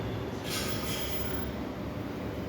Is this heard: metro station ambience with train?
yes